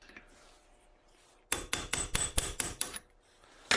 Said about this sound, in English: I used a small pry bar and a punch tool to separate the parts